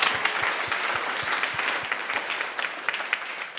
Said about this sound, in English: Please give a warm applause to our lovely panel of tonight.